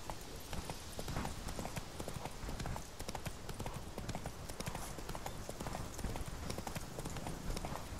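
A horse gallops in The Witcher 3 video game, with rapid, rhythmic hoofbeats pounding steadily and loudly throughout over a dense wash of game ambience, while someone talks faintly at times.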